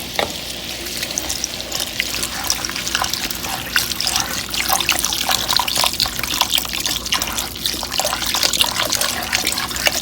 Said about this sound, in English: And then we're going to add our broth.